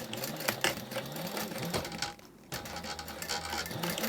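A sewing machine stitches webbing onto a fully lined Wanderlust mini backpack, producing a close, continuous rattling hum of rapid stitches with one brief pause midway.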